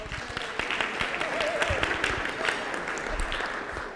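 An audience at a community event gives a round of applause for one table, a steady wash of clapping lasting several seconds.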